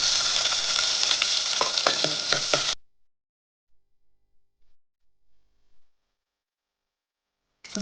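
Mustard seeds, curry leaves and onion frying in hot oil for a Kerala-style kadala curry, a loud, close sizzle with spatters and stirring that cuts off abruptly, followed by near silence.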